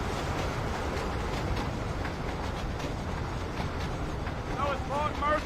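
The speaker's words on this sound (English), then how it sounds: "Suppose we better let the train go." Steam train rolling past in Red Dead Redemption, a steady dense rumble of wheels and carriages with clattering rail noise, continuous and fairly loud throughout, with a brief whistle-like tone near the end.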